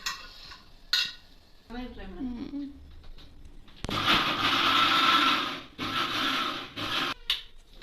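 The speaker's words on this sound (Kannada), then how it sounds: "ಒಗ್ಗರಣೆ ಹಾಕ್ತಿದ್ದೀನಲ್ವಾ" A tempering for idli sambar sizzles loudly in a pan, a bright frying hiss that surges for a couple of seconds amid stirring and utensil clatter, with a person talking nearby.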